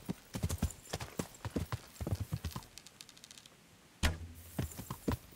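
Horse hooves clop in a quick, uneven rhythm in the video game Kingdom Come: Deliverance, close and distinct, pausing briefly before a sharper burst of steps near the end.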